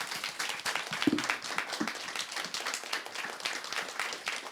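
An audience at an education event claps steadily for several seconds, a dense, even patter of many hands at moderate distance.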